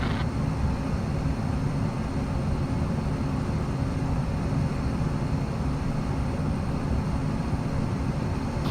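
An Egypt Air airliner takes off from runway 06 on a flight from Cairo to Amman, heard as a loud, steady broadband engine roar that holds constant throughout with no voices.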